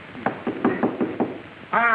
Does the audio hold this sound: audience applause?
no